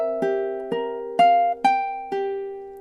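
A ukulele plays measure 3 of a lullaby as five clear plucked notes or chords, each ringing briefly before the next, close and solo with no voice.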